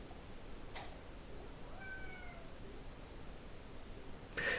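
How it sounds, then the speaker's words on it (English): A pet cat gives one short, faint meow in the background over a quiet room hiss, with a brief click before it and another just after. "sorry, that's my cat Pinky in the background"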